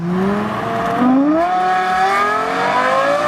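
A Lexus LFA's V10 revs hard toward its 9,500 RPM redline, the engine note climbing in a smooth, rising wail. It is loud and close, with no talk over it.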